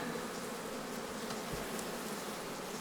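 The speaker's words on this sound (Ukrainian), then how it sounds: "Там на дні бджоли куча." A steady, dense buzz of many bees inside a hive, continuous and close, with no voices.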